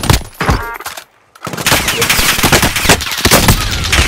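Video game gunfire, dense rapid bursts of automatic shots that are loud and close, broken by a brief silent gap, then continuing steadily.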